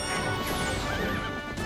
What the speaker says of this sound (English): They're trying to shoot your horse down.